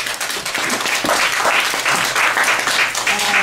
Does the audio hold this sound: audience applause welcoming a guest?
yes